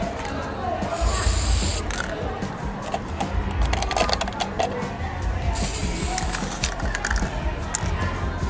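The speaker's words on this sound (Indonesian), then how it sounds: "kita semprot dengan cat semprot gitu" Aerosol spray paint hissing onto a small pot in a school craft setting, in a few bursts of spraying with mechanical clicks and rattles around them, fairly close, with people talking at times.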